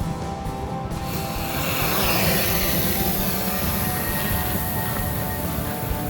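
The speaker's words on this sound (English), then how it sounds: "fly this drone without anybody seeing us" A drone flying near a bridge in Nashville, its broad, steady whirring roar filling the scene continuously at close range.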